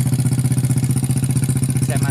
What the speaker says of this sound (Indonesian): ini suara motor agak embrong guys, pakai knalpot gede.